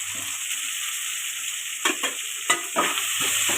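Food, including chopped tomatoes, sizzles steadily in a hot pan while a utensil scrapes and stirs it in a few quick strokes near the end, while making fish curry.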